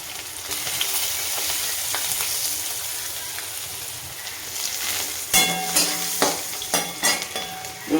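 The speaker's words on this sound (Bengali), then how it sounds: "রসুনটা একটু ভাজা ভাজা হোক" Garlic frying in mustard oil with black cumin seeds, a steady close sizzle carrying on throughout, joined in the last few seconds by several sharp spatula scrapes and clinks against the pan.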